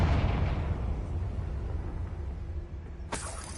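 A Confringo spell explosion in Hogwarts Legacy, a heavy booming blast that rumbles and slowly fades, followed by a sharp bright burst near the end.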